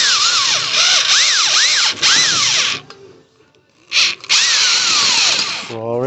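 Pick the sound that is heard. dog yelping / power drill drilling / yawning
power drill drilling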